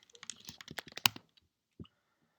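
A short burst of rapid keyboard typing while a Python script is written, close and crisp keystrokes in quick succession, then a pause and a couple of final isolated key taps.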